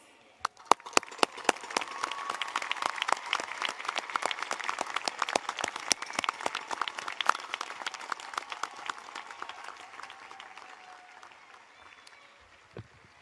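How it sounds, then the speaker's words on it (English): At a university commencement ceremony the standing audience applauds the degree candidates, a sustained crowd clapping that swells quickly, holds for several seconds and then fades out gradually. "please rise and applaud the candidates"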